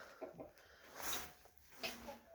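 Roosters, including a silky rooster, making soft clucking calls in short bursts, quiet and fairly close with gaps between calls.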